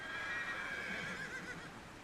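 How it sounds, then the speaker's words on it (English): A single drawn-out whinny rings out from a horse on a Kyrgyz farm where the herd runs wild, fairly loud and wavering as it trails off, with no voices. "This is farming Kyrgyz style, and Munabek's horses run wild up here."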